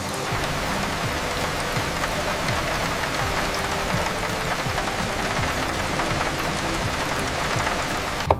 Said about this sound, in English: Isn't this rain just perfect for a day like this?